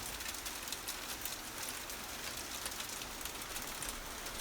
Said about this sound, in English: that's hail.